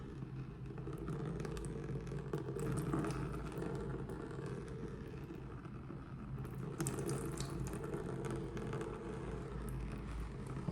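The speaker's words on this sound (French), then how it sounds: "On remet encore de l'eau" Water runs steadily from a tap while hair is rinsed at a sink after a hair transplant, a continuous close splashing hiss with slight fluctuations as the stream is interrupted.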